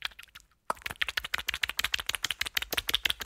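Cartoon foley of a character slapping paint onto a canvas on an easel with a paintbrush, a rapid run of sharp, close, dry slaps and clicks after a brief pause, like frantic tapping.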